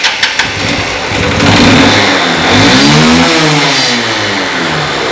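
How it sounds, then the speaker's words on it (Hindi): A Hero Ignitor 125cc motorcycle engine, converted for LPG, runs on petrol close by, a steady loud idle that swells into a few revs, with no talking. "जो गाड़ी है वो पेट्रोल पे कंप्लीट चल रही है।"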